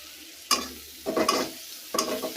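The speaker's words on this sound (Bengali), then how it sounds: "তো পেঁয়াজ কাঁচামরিচটা আমি আগে ভালো করে ভাইজা নিই।" Chopped onions and green chillies frying in hot oil in a village kitchen, heard as three bursts of scraping stirring and sizzle separated by quieter crackling, close and alone.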